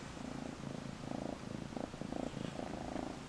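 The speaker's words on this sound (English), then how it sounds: "he's literally purring right now" A rescue cat purrs up close, a soft, low rumbling in steady rhythmic pulses, quiet and continuous with no voices.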